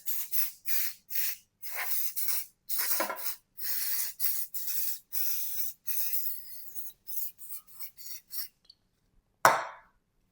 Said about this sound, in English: I'll give them a good spray.